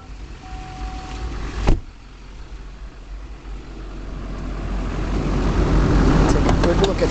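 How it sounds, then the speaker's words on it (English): A GMC Sierra 2500 crew cab pickup engine idles with a steady low hum that grows slightly louder, after a brief sharp click near the start. "Look at the engine. See, it runs very smooth, started right up"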